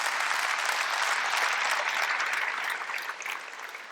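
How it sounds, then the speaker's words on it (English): Audience applause at a standup comedy show, a dense, loud burst of clapping from the crowd that holds strong and then begins to thin and fade toward the end. "You can applaud that"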